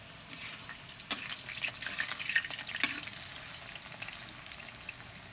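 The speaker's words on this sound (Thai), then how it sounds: "กระทะร้อนแล้วนะ ใส่ลงไป่งนี้เลย" Banana slices sizzle and fry in a hot pan for caramel banana chips, a steady crackling hiss with a few louder stirring scrapes, close and with no talk.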